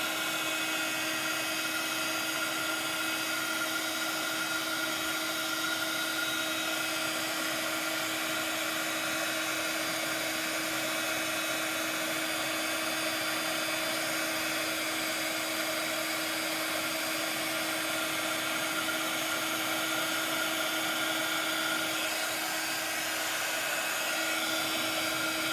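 A craft heat tool blows hot air steadily from underneath to set embossing powder, a constant loud fan-and-heater whoosh with a faint whine that continues unchanged and without talk.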